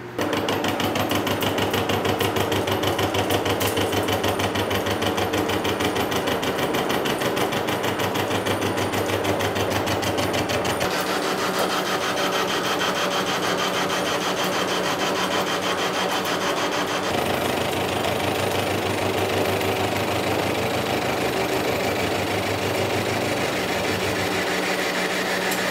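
A Monarch lathe machines a steel tool holder for a vertical shaper, giving a loud, steady mechanical drone with a shifting cutting tone that changes character partway through; no one speaks.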